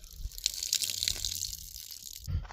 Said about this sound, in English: You just barely turn that, get some water out.